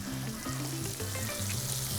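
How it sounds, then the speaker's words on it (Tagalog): Vegetables sizzle and fry steadily in a pan while pasta cooks, a loud close continuous crackle with a low hum running under it. "So we'll drop in our vegetables now."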